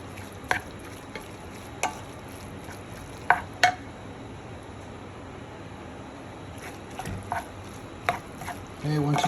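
Cavatelli pasta stirred in a pan with pecorino cheese, giving soft continuous sizzling and scraping, punctuated by several sharp spoon-on-pan clicks, close up.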